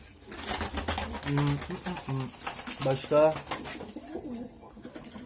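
Pigeons coo softly in low, throaty bursts while someone talks nearby, with some fluttering and background chatter.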